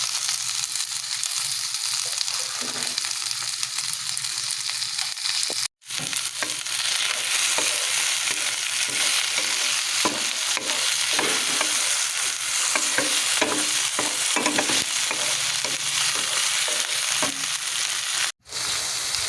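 Tomatoes stirred and sautéed with bitter gourd in a hot pan, a loud continuous sizzle with scraping and clattering from the stirring, close up, broken by two brief silent cuts.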